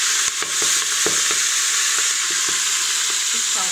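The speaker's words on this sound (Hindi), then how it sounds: "इसी तेल में जो कि तेल पक चुका है, हरी मिर्च सफेद हो गई है तेल में, तो इसी में मैं साग डाल दूंगी।" Kashmiri greens (kadam ka saag) added to hot oil with green chilies sizzle loudly and steadily, with faint stirring clicks and scrapes throughout and no talking.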